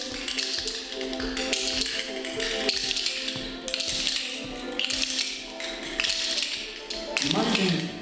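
Rhythm bones clicking in a steady triplet pattern at a bones workshop, repeated sharp taps running throughout at close range with some background murmur.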